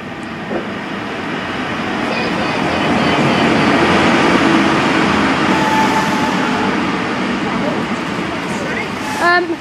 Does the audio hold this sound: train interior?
yes